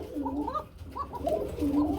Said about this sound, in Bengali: দেখতে পাচ্ছেন খুবই সুন্দর ডাকে আরাবিয়ান কুকা